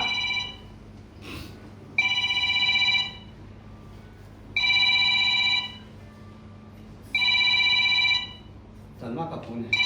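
A telephone rings three times in steady bursts over busy background voices and room noise, each ring a bright electronic trill of about a second.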